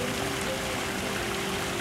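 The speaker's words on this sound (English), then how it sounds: "They actually do have a little waterfall in their backyard that I think we're going to get running again." Water from a small backyard waterfall runs in a steady, continuous trickle and splash, close by and even in level, with no voices over it.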